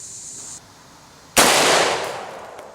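An AK rifle firing a 7.62x39 round at a target during penetration testing, one loud close gunshot with a sharp blast that rings and decays over the following second amid outdoor background noise.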